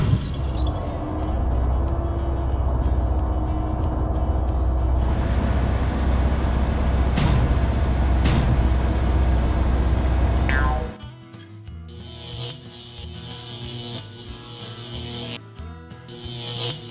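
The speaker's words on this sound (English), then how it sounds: "Scary garbage truck." A garbage truck's engine rumbles steadily with rattling, grinding mechanical clatter, then shifts to a lighter, choppier whirring and clanking of its mechanisms, loud and close throughout.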